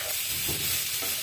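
Carrots stirred and frying in a pan with spices for carrot halwa barfi, a steady close sizzle with soft scraping stirs throughout, no voices.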